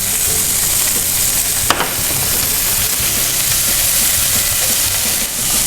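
Ginger, garlic and salt frying in a pan, a loud continuous sizzle with a sharp utensil clink near the start and faint stirring scrapes.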